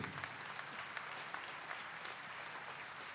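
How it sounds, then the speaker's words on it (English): Applause for the Pune people at a Catholic Mass gathering, a steady, fairly distant wash of many hands clapping that carries on for a few seconds without voices. "A big clap to the Pune people."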